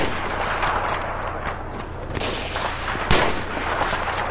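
SV98 sniper rifle fire in Battlefield 3 with a 7x scope: sharp gunshot cracks over dense battle ambience, one strong report standing out near the end, no talking.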